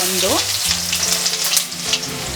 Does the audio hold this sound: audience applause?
no